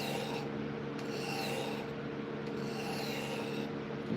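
A carving tool's bevel rubs back and forth on a sharpening stone in a steady, close gritty rasp, with the strokes swelling and fading in a slow rhythm.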